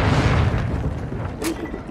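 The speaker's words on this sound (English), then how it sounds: "Throwing flash grenade!" A flash grenade goes off in a video game, a loud low boom that fades over about a second and is followed by a brief sharp burst, set against continuous game noise.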